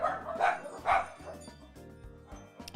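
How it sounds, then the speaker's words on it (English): Noisy pet dogs bark indoors, two or three sharp close barks followed by quieter yips and whimpers. "I've got very, very noisy dogs"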